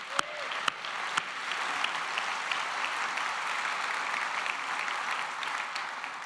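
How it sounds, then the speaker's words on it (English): An audience at the opening session of a corporate conference applauds the event's sponsors. The clapping is dense and steady and fills the room for the whole stretch, with a few sharp louder claps at the start and no talking over it. "So let's have a big round of applause for the sponsors this year."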